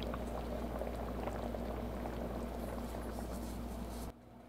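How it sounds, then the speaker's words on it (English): Greek white bean soup (fasolada) at a rolling boil, a dense bubbling and gurgling that holds steady and close, then cuts off abruptly near the end. "We're going to raise the heat and bring it to a rolling boil for a couple of minutes"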